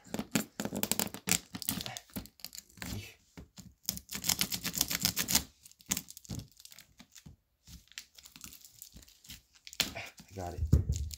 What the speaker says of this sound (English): It's so satisfying to rip open these